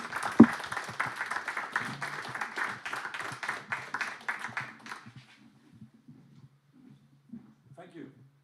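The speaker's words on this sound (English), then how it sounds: "Give him a warm applause." Applause from an audience at a talk on gene editing and animal welfare, a burst of clapping for about five seconds that stops abruptly, followed by faint murmurs and a voice.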